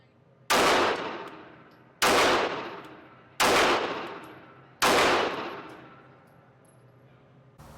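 A Glock 43X pistol fires four evenly spaced, sharp shots at multiple targets on a shooting range, each crack loud and followed by a long decaying echo, with near silence between them.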